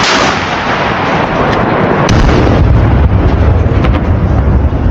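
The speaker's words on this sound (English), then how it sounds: "As one of the vehicles began to enter the damaged building area, the artillery was immediately activated." Artillery fire shelling Russian armored vehicles near a damaged building, heard as loud, sustained, rumbling blasts and booms with a windy, distorted texture throughout, heaviest low rumble in the second half.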